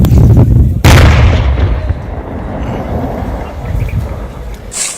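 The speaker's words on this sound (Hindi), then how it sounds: "और धमाके की आवाज हम आपको सुना पा रहे हैं।" A 20 kg IED bomb detonated by security forces in a forest in Jamui, heard as a loud, sudden blast near the start with a rumbling low roar that decays gradually over several seconds.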